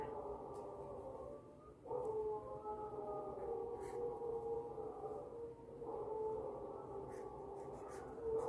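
A dog howls in long, sustained wavering tones that rise and fall, repeating in drawn-out phrases with brief pauses between them, fairly close and with no talk over it.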